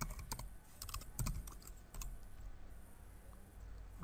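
Clicky keystrokes on a computer keyboard come in short bursts and single taps, close and fairly quiet, with no voice over them.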